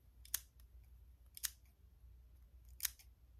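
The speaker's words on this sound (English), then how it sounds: "I need to cut this, though. With my scissors." Scissors cut through a 28-inch loose deep wave wig with three crisp, separate snips spaced about a second apart, close and quiet in a hushed room.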